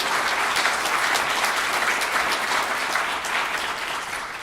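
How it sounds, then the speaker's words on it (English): A conference audience claps steadily, a thick, even wash of many hands heard up close and loud, easing off only slightly toward the end with no voices on top. "So I'm going to ask you just to clap for"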